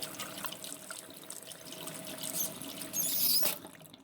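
A tap runs water in a thin, steady, faint stream with small squeaky splashes, growing briefly louder near the end before tapering off.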